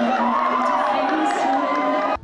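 A crowd of students cheering and shouting together, a loud continuous roar that holds steady for about two seconds before cutting off abruptly.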